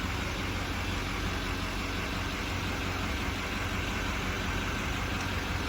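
A 2012 Chevrolet G3500 Express ambulance with a 6.6 Duramax diesel idles close by, a steady, even, continuous rumble with no revving and no voices.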